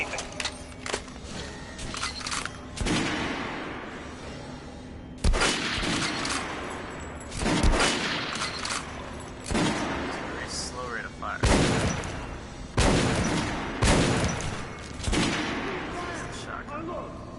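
Gunfire in Metro: Last Light, a series of loud sharp shots spaced a second or two apart with reverberant tails, mixed with game ambience and a voice talking in between.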